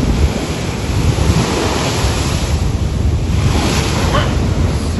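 Stormy sea waves crash continuously against the Odessa coast, a loud, close roar of surf mixed with heavy wind buffeting the microphone.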